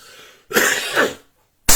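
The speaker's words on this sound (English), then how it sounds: "I'm coughing and allergies attacking me" A single harsh, throaty allergy cough rings out up close after a soft breath, followed by silence and the start of another cough.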